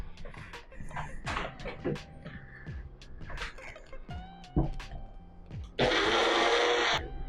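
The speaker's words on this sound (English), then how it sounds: "we're gonna start blending our concoction" A blender whirs loudly for the final second or so while blending a mango michelada mix. Before it starts, people talk and small kitchen knocks are heard.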